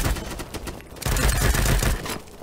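Gunfire in the video game BattleBit Remastered: loud, close bursts of rapid automatic shots, a short pause, then a longer sustained volley.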